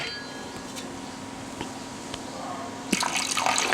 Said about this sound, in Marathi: आता हे जे दही आहे हे मी थोडंसं असं फेटून त्याच्यात थोडंसं कोमट पाणी घालून घेते